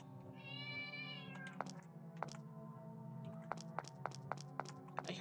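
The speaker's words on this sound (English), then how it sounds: "I heard a cat." A cat gives one clear, drawn-out meow in the horror video game Mad Father, followed by a series of sharp, evenly spaced clicks over a quiet background hum.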